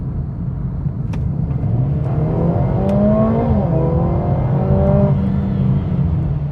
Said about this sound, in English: I'm just leaving it in comfort mode, and I'll just push my foot flat to the floor.